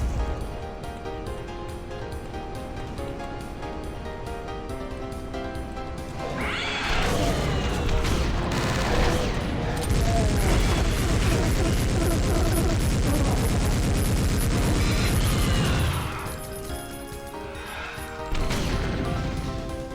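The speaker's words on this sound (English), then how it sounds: "Blasting through with this rocket." Rocket launcher fire in the video game Doom, with a loud burst of crashing blasts and explosions from about seven to sixteen seconds, over a quieter steady game background.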